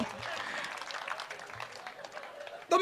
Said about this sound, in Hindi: ताली बजाइए मेरे मित्र के लिए